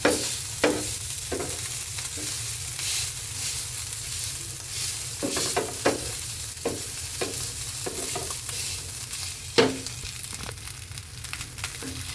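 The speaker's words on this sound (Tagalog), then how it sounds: "Magluluto po ako ng itlog. Sunny side up ang itlog ang gagawin ko sa kanya." A sunny-side-up egg fries in a pan with a steady hiss and crackle, broken by occasional sharp scraping knocks as the egg is stirred or nudged, close up and with no talking.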